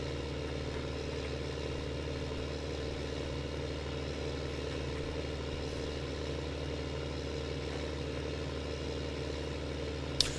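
A tractor engine in Farming Simulator 15 runs at a steady, even drone throughout, unchanging and fairly close, with no talk over it.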